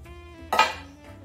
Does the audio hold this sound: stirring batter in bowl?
yes